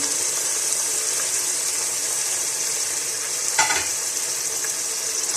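Marinated mutton fries in a pan with a steady loud sizzle and hiss, broken once by a short stirring scrape midway.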